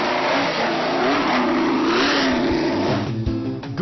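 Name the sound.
Lotus 38 racing car engine driving off at Goodwood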